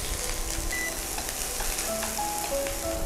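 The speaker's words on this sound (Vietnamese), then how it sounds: "cho sả vào phi thơm." Lemongrass fries in annatto oil in a pot, giving a steady, dense sizzle with faint stirring, close and continuous with no talk.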